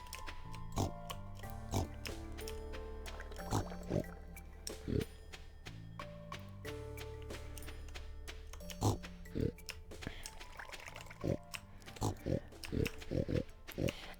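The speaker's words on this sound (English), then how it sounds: "I think I might as well fuss the pigs while I'm here." Pigs in the farming video game Stardew Valley give repeated short grunting oinks at irregular intervals over soft looping background music, with a person talking throughout.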